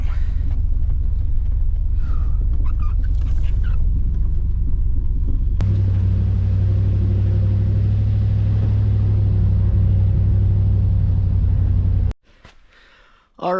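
An old red Chevy truck engine idles with a low steady rumble that grows heavier and louder midway, with a voice talking briefly over it before the sound cuts off near the end.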